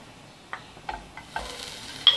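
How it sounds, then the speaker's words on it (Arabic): Onion and garlic fry in a few spoons of hot oil in a pan, a soft sizzle broken by several clicks and scrapes of stirring, heard close and fairly quiet. "نرمي البصل تاعنا والثوم، نقليوهم جيدا"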